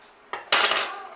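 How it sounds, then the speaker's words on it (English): A spoon clinks against a coffee cup while stirring in sugar, two quick close metallic taps followed by a short ringing scrape, clear and alone. "Stir, stir, stir, stir, stir."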